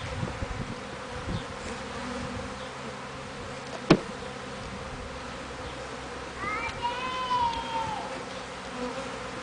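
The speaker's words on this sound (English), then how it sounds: "Boy, this is a busy hive." Busy beehive from a freshly installed package, a soft continuous buzz of many bees close by, with one brief knock partway through and a few faint high calls later.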